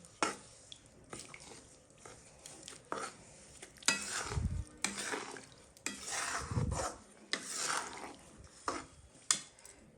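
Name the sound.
stirring melting jaggery in a pan, breaking lumps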